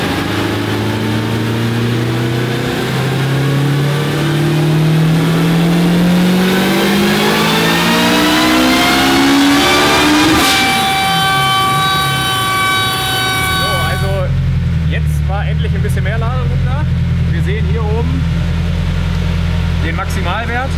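A Honda Integra with a turbocharged B18 engine on a dyno during tuning, the note climbing steadily in a loud rising rev to about 9200 rpm, then cutting off and dropping to a low, rumbling idle with sharp crackles.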